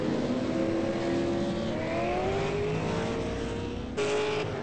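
V8 Supercar race cars accelerating in online racing qualifying at Oulton Park, engines rising steadily in pitch as throttle is picked up, loud and continuous with a gear-change drop near the end.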